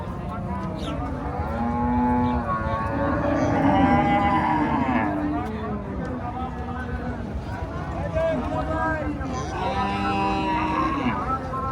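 A Friesian cow moos several times in long, low calls, close and loud, with people talking in the background at a cattle market.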